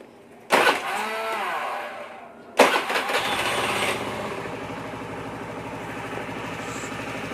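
An automatic scooter engine with a repaired fuel pump cranks and catches twice, the second time settling into a steady, even idle that runs on close by.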